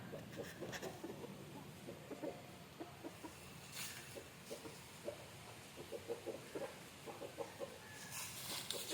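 Free-range country chickens scratch and forage nearby, giving soft scattered clucks and rustling scratches amid quiet outdoor ambience, fairly faint and without speech.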